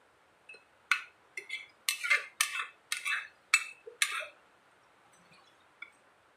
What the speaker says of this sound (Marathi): आता आपण थोडं हलवून घेऊया म्हणजे कसं मसाला खाली बसणार नाही